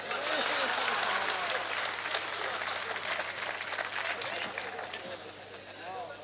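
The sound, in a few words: audience applause at a poetry recital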